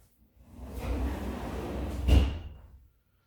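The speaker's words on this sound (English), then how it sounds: "Go ahead and close the door." A door in a home's indoor atrium swings shut with a soft rushing movement, ending in a single firm thud close by; no voices.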